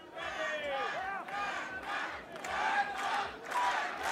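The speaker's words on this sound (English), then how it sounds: "there comes the crowd cheering for Denmark" Supporters at a medieval armored combat tournament roar and cheer for Denmark, a dense and steady crowd shout that swells and surges throughout.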